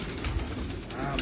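Pigeons coo softly amid a dense, noisy backdrop at a pigeon loft in Lahore, low murmuring calls blending with steady ambient hiss.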